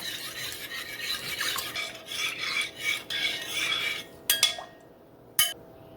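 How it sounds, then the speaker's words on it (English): A chicken, rice and milk mixture is stirred in a bowl with a continuous rough, rasping scrape. Two sharp clinks from the utensil against the bowl end it. "you're going to mix that until it's mixed together"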